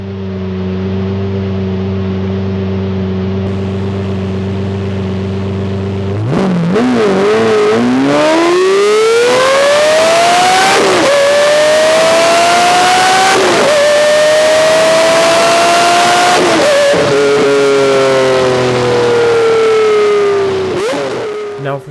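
A Lamborghini Murciélago idles with a steady low rumble, then launches hard in a 0 to 60 mph run, its loud engine climbing through rising revs with sharp gear-change breaks before the pitch sweeps down again near the end.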